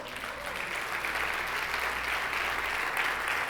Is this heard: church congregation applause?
yes